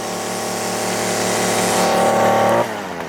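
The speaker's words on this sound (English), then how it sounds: "As soon as you hit that throttle trigger, the choke fully opens, calming down the engine" A small gas Stihl or Echo string trimmer engine revs loud and steady at high pitch for over two seconds, then drops abruptly as the throttle trigger changes, the note settling lower.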